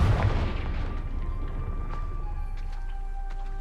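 Confringo blasting spell going off in Hogwarts Legacy, a loud booming explosion at the start that settles into a sustained low rumble with faint crackling debris over the following seconds.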